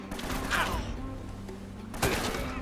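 Gunfire in the video game Uncharted 1, with two sharp crackling bursts about a second and a half apart over a steady game backdrop of hum and low tones.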